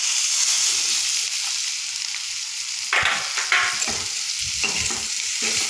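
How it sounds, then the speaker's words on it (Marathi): Capsicum being sautéed in a pan for a bell pepper curry: a bright steady sizzle, then loud spatula scrapes and stirring bursts in the second half, close up with no speech. "शिमला मिरची पण छान त्यामध्ये परतून घ्यायची आहे."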